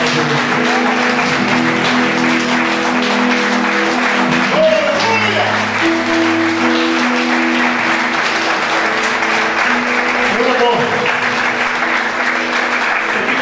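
A church congregation gives a loud, sustained round of applause during a sermon on divine healing, with some voices and low tones mixed into the clapping.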